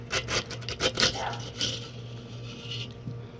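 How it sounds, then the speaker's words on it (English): A metal scraper pressed flat against the inside of a Weber charcoal grill bowl, working from rim to centre over crusted residue, making several close, rasping strokes in short bursts followed by a softer trailing scrape. "putting the blade of your scraper flat against the inside of the bowl and holding it relatively flat so there's not a sharp angle, press down"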